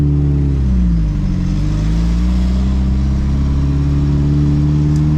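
A built Nissan S15 accelerates to overtake on a highway, its engine droning loud and close from inside the cabin, pitch dipping then climbing steadily as it pulls past.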